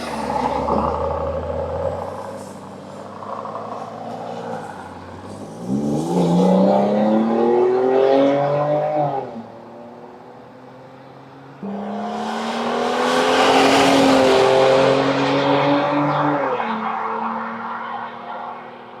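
A base V6 car with custom exhaust pipes driven on the road, engine revving up in loud surges with rising pitch, easing off between pulls, then building again in a long, strong acceleration.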